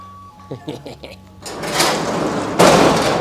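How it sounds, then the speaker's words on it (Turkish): A door is handled and shut with a clunk after some faint speech-like sounds, followed by a loud burst of rustling noise. A workshop door during a kit project with two engines removed. "Kapıyı kapatacağım ya."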